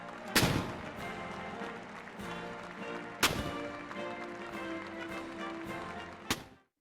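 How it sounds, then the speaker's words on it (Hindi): Cannon salute at the presidential inauguration of Donald Trump. Three loud, booming reports land a few seconds apart over a steady background of broadcast sound. "डोनाल्ड ट्रंप के हलफ उठाते ही तोपों की सलामी दी गई।"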